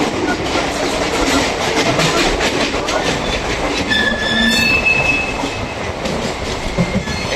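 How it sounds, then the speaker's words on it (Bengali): Howrah–Jodhpur Superfast Express train passing close by, a loud, steady rumble of rolling wagons with a few brief high wheel squeals throughout. "Howrah Jodhpur superfast express."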